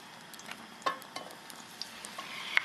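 A few pats of butter melt in a frying pan just used for browning sausage, giving a soft continuous sizzle dotted with small crackling pops, faint and close, with no talking.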